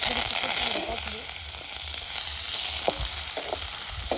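A wild plant frying in oil in a pan over an open flame, giving a steady, close hiss of sizzling that runs throughout with a few soft scrapes near the end.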